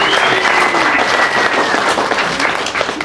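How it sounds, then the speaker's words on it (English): A packed comedy-show crowd applauds steadily, dense clapping filling the room at full loudness for the whole stretch, with faint voices and whoops mixed in. "Give yourselves a round of applause."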